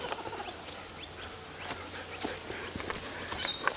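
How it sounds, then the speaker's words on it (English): A kookaburra calls from an old gum tree along a shaded hiking trail, its rough, cackling bursts repeating over steady outdoor background noise at moderate distance. "Kookaburra in the old gum tree."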